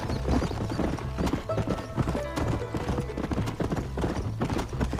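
A black horse in Red Dead Redemption trots along, its hooves clip-clopping in a steady, close rhythm under game music.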